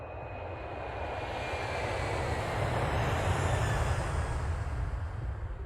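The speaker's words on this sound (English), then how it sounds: "watch for low-flying aircraft" A low-flying airplane passes overhead near an airport, a broad steady engine roar that swells gradually and stays loud and close throughout, with no voices.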